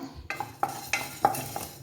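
A spoon scrapes around a pan in about five quick, rhythmic strokes over a faint sizzle of urad dal frying.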